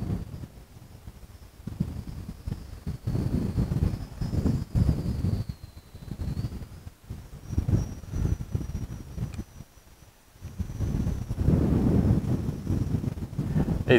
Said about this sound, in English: Wind comes and goes.